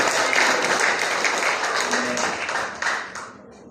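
A church congregation applauds during a Sunday service, a dense, loud wash of many hands clapping that holds steady and then thins out and fades near the end.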